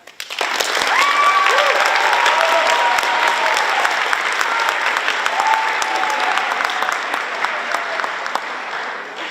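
An audience at a high school speaking and film contest breaks into loud, sustained applause for the student speakers, a dense wash of clapping that swells quickly and holds steady before slowly tapering off, with a few faint voices mixed in.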